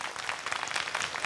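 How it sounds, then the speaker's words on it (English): An audience claps for children after a violin performance, a brief, dense burst of steady applause with no talking over it. "These children deserve a very loud round of applause."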